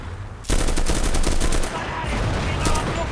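Sudden bursts of rapid gunfire in the video game Enlisted erupt after a brief quiet, loud and sustained, then continue in slightly softer volleys.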